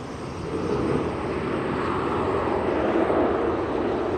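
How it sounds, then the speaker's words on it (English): Air Force One jet rolling along the Brunswick runway just after touchdown, its engines giving off a loud, steady, unbroken roar that holds throughout. "the engines of the jet makes a pretty loud noise"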